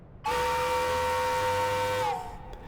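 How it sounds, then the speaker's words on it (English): A ship's steam whistle blows one loud, steady two-tone blast for about two seconds, then cuts off, leaving a faint hiss. "Captain Harvey of the Hesperus sounded the ship's whistle."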